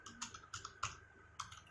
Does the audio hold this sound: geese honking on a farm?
no